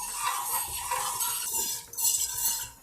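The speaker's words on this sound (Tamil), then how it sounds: "ஸோ நல்லா கலந்துட்டே இருக்கும்." Thick batter being stirred in a pot, a continuous soft scraping and sloshing with light clinks of a utensil against metal.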